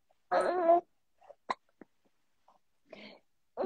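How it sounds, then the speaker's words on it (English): Several short, sharp hiccups break up a quiet pause in a spoken prayer, spaced irregularly, with a longer voiced burst at the start and softer breathy sounds between them. "the hiccups, I'm sorry"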